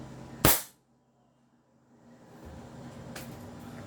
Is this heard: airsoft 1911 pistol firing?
yes